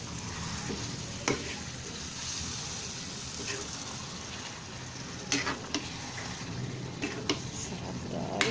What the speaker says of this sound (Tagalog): Pwede na natin siyang haluin.